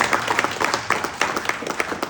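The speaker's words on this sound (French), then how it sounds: "vous pouvez applaudir votre Seigneur quand même" A congregation at an evangelical sermon applauds, with scattered, uneven hand claps from a modest crowd rising and falling steadily and no voices on top.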